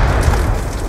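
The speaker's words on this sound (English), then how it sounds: "Smart grenade!" A smart grenade detonates in Call of Duty Black Ops 2, a loud, dense rumbling blast that fills the whole second, sustained and close with no clear decay.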